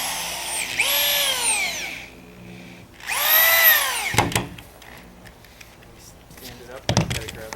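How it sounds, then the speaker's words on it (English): A power drill drives 1-inch screws through studs into the plywood deck of a skateboard halfpipe: two loud, rising whirring runs up close, followed by knocks and clatter of boards being handled. "attach both studs to the top side of the deck plywood using 1-inch screws"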